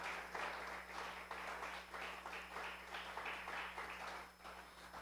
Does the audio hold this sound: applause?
yes